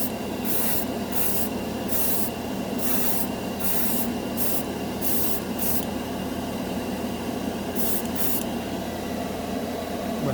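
An airbrush sprays Model Master Metalizer paint in a series of short hissing bursts, several in a row and then two more near the end, over a constant compressor hum. Close and fairly loud, with no voices.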